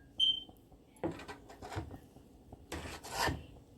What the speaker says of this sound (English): I'm going to add the plantain puree into the pot and then stir